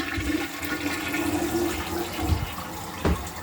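A newly installed quick-flush toilet in a half bath flushes with a loud rushing swirl of water, close by and alone, gurgling as the bowl drains.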